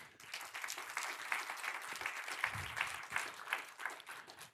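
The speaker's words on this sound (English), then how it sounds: "with a huge round of applause, please" An audience at a business client conference applauds steadily, many hands clapping in a sustained, even round that fills the room.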